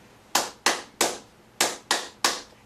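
Six sharp hand claps tapping out the rhythm of Jingle Bells, close and distinct in uneven groups with brief pauses, alone in a quiet room.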